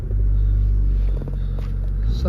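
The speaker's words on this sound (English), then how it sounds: "Just start the car up, 6-speed gearbox." Mazda3 2.0 SKYACTIV-G petrol with a six-speed manual settles into a steady, deep idle rumble after starting, close and loud, with a slight dip in the middle and faint clicks and movement over the engine.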